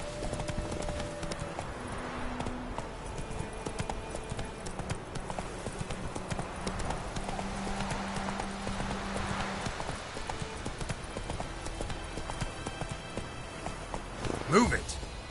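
Roach, the horse from the fantasy game The Witcher 3, clip-clops steadily across the whole stretch in a rhythmic run, with game music and ambience underneath and a short sharp burst near the end.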